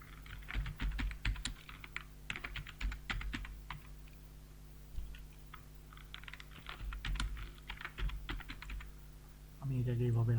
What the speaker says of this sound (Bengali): আমরা এখানে আমার নিজেদের নাম লিখে দিতে পারি।